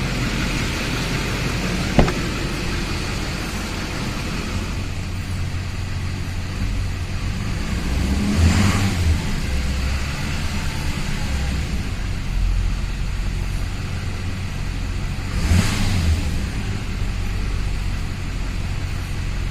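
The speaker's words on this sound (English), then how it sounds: "I'm going to try revving it up a couple times and see if it'll act up" Diesel engine of a 2004 GMC truck with a Duramax LLY and a fuel pressure regulator problem, idling under a steady hiss, with two brief revs that swell and fade several seconds apart.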